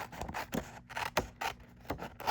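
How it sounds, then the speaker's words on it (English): Scissors snip and trim paper cardstock for a handmade Valentine card, with several quick, close cutting and rubbing sounds in an irregular rhythm. "we're going to take my scissors and trim it right there because that's the edge of the card"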